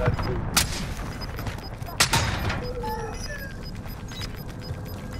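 Gunfire in the Call of Duty: Modern Warfare Resurgence Quads battle royale game, with a couple of sharp nearby shots over a dense, busy game soundscape, plus beeps and faint voice chatter underneath.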